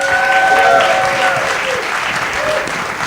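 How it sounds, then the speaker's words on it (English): Dense, loud crowd applause for the musicians at a Living Legends tribute concert, continuous throughout with a few faint whistles ringing over the clapping. "A round of applause for our musicians."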